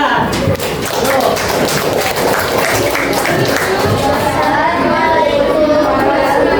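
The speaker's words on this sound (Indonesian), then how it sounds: "Kasih tepuk tangan" Classroom applause at an elementary school, many children clapping hands together in a dense, steady burst with chatter mixed in, continuing throughout.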